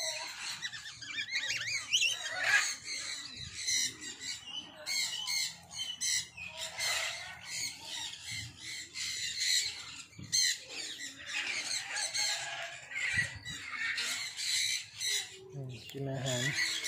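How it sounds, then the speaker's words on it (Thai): Ducks squawking at a Thai countryside cafe, with a dense chorus of quacks and calls over about seventeen seconds, fairly close and continuous, and a voice talking intermittently over the birds. "นกเป็ด"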